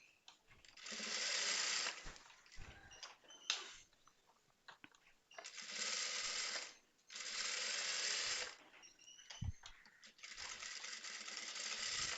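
Sewing machine stitching a blouse runs in three bursts of steady whirring, each about two seconds long, separated by quieter gaps with small clicks and handling noises.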